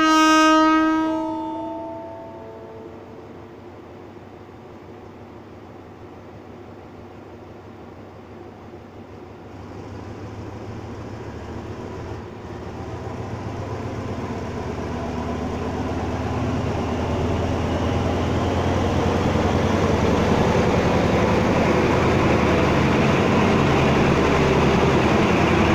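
An express train departs Nakhon Lampang railway station in Thailand, opening with a loud horn blast, then a steady rumble and clatter of wheels that swells as the train gathers speed and pulls away.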